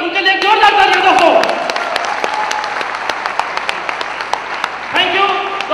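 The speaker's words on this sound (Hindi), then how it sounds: "उनके लिए जोरदार तालियां दोस्तों" Loud, sustained audience applause at a Safe Shop recognition and award event, with a voice speaking at the start and returning near the end over the fading clapping.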